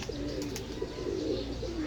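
Pigeons cooing on a rooftop where a stray female has returned to the flock, soft low coos repeating steadily across the clip with a few faint chirps above, moderately close and alone without talk.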